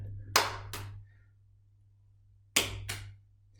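Two pairs of quick, crisp hand claps sound close by in a quiet living room during a juggling exercise, each pair a double smack, separated by about two seconds of near silence.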